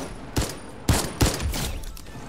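A brand-new automatic sniper rifle fires in a video game, with three sharp shots in quick succession, each with a short echoing tail, loud and close, and no talking.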